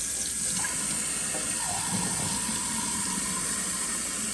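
Tap water runs steadily from a kitchen faucet while broccoli sprouts are rinsed, a constant splashing rush into the sink with no talking.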